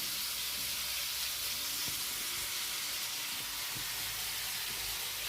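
Onion fries in oil with turmeric powder in a home kitchen pan, giving a steady, close hiss and sizzle that runs evenly throughout with faint stirring taps and no talking.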